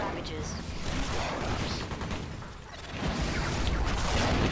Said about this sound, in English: now I hear the turret